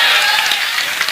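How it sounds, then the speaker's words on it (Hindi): Audience applause at a public speech, steady dense clapping filling the whole moment at close range with no voices over it. "तालियां बजाओ"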